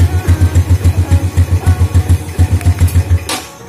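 A Honda Vario 150 scooter engine idles right after a remote start, loud and close, with a fast even throbbing pulse that tails off near the end.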